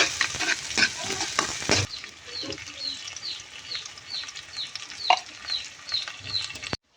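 Onion and garlic frying in a pan as they are stirred, a close sizzle with scraping strokes at the start, then a softer steady sizzle as chirping birds are heard in the background.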